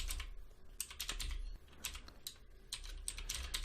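Clicky keys on a computer keyboard tapped in quick irregular bursts with short pauses, close and fairly soft, no voices.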